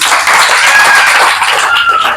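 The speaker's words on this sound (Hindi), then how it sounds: "हाँ ताली बजा" An audience at a large religious gathering claps loudly and continuously, with dense overlapping hand claps close by.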